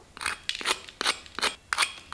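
A crispy fried potato and flour snack is broken apart close up, giving a series of sharp crackling crunches in quick bursts, with no talking.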